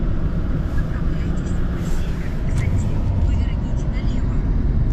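A car's wheels spin in deep snow at minus 35 degrees, producing a loud, close, unbroken engine roar and low rumble throughout.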